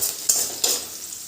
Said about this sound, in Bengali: আর এই যে এখন পেঁয়াজটা ভাজছি